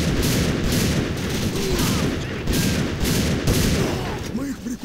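Sniper rifle shots in the video game Alliance of Valiant Arms crack out as a series of loud, spaced bursts about a second apart over a constant, busy battle background.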